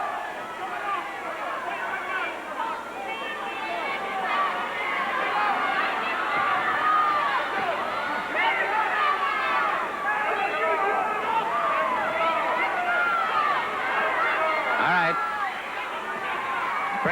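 A Continental Wrestling arena crowd murmurs and chatters in a steady, dense babble of many voices, rising slightly midway, with a commentator talking over it.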